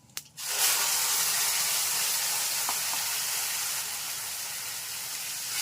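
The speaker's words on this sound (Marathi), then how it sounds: "वाटलेलं वाटण घाला." Ground fresh coconut paste hits hot oil with asafoetida in a pan, bursting into a loud, steady sizzle after a brief clatter, then frying on continuously with a slight drop in intensity.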